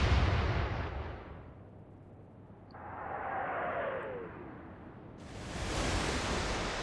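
Naval guns firing 8-inch armor-piercing shells in the warship game Atlantic Fleet: deep, rumbling booms over a steady ocean-like wash, ending in a sudden, sharp, loud blast.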